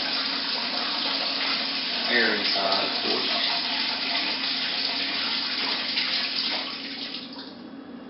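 A gallon of water pours steadily into a container for kit wine making, a continuous splashing gush that tapers off near the end, with a person speaking briefly over it.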